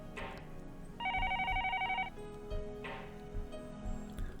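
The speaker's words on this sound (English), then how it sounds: "The phone on the desk rang" A desk telephone rings with a bright electronic double-trill burst in a quiet room, then faint rustling and soft background sounds follow.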